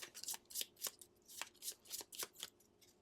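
Wingspan board game cards being shuffled by hand on a table, a rapid series of about a dozen crisp riffling bursts in an uneven rhythm, close and quiet, with no talk.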